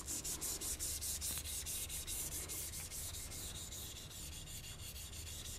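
A block of rosin is rubbed back and forth along a violin bow in quick, even strokes, giving a dry rhythmic scrubbing that repeats steadily and softens slightly toward the end.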